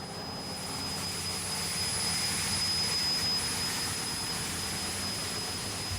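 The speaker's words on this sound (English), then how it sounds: "Jet cars, as they're classified, is they're considered exhibition cars." Exhibition jet car engine roaring loud and close, a continuous whooshing roar with a high whine, swelling slightly and holding steady.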